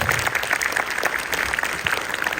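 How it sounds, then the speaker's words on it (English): Applause from students and staff at a Teacher's Day morning school assembly, a brisk round of many hands clapping at moderate volume, steady across the whole stretch. "those students today who performed the assembly deserve a wonderful big applause"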